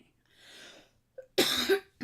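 A single close, forceful cough after a soft breath, followed by a short catch at the end.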